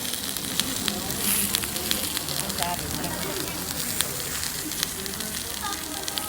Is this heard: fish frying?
yes